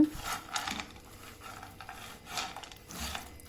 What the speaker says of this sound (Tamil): இது எல்லாத்தையும் லைட்டாக கரண்டி வச்சு இப்போ மிக்ஸ் பண்ணிவிடுங்க